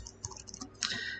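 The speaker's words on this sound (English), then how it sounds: "Let me type this for you." A computer keyboard typed on at close range, a short burst of quick key clicks running into a longer, firmer press at the end.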